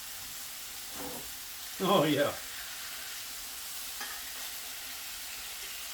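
Home fried potatoes sizzling in a cast iron skillet, a steady faint frying hiss with a brief louder burst of stirring, and someone speaks briefly over it.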